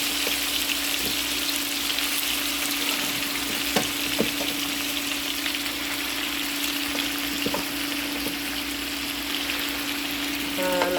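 Suya meat browning in a pan, a loud, steady sizzle and crackle that runs unbroken throughout, with occasional sharper pops.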